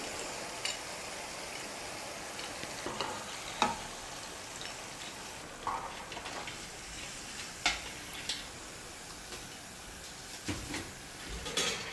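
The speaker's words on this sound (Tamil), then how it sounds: "இந்த 2 முறுக்கும் நல்லா எப்படி நுர மாதிரி பொங்கி கொதிக்குது பாருங்கள்" Steady crackling and bubbling of murukku deep-frying in hot oil, foaming up, with occasional sharper pops and ticks over a continuous hiss.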